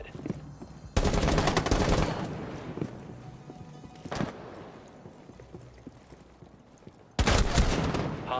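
Valorant gunfire sounds as two loud automatic bursts, each about a second long, separated by quieter game ambience and a single sharp shot in between.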